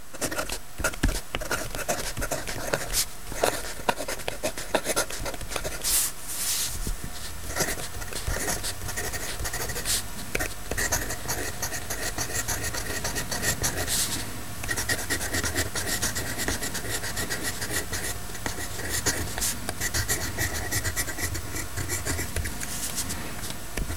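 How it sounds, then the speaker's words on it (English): A Pierre Cardin 0.9 mm mechanical pencil writes on paper, a steady scratchy rubbing of graphite held close and fairly loud, continuing without pause and with no talking. "Let's give it a riding test"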